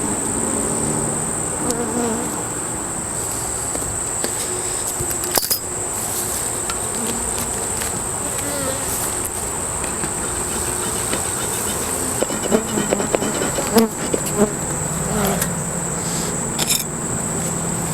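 A honeybee swarm buzzes in a dense, continuous drone that stays loud and steady throughout, with a few sharp knocks and rustles close by.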